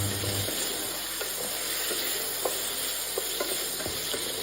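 Raw mango pieces cook in a pan over a medium flame, giving a steady soft sizzle with occasional light stirring clicks, close and continuous with no talking.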